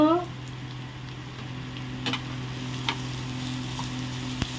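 Chopped carrots tipped into a hot pan give off a steady, soft sizzle that holds throughout, with a brief voice at the very start and a few faint clinks over the low frying hiss.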